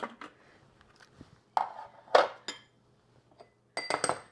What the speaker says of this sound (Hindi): ये चॉपर में प्याज डाल रही हूँ